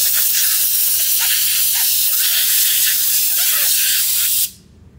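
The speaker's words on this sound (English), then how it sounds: "grab your air nozzle, your compressed air, and then just blow it all out" Compressed air from a nozzle blasts steadily through a boat motor's lower unit assembly, a loud continuous hiss that cuts off abruptly near the end, leaving near silence.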